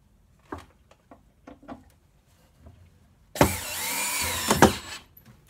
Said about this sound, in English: and we'll screw it in.